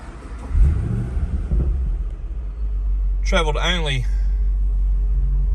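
A Holden Commodore SS-V Redline V8 with 19-inch wheels and Brembo brakes gives a steady deep rumbling idle close by, with someone briefly talking over it.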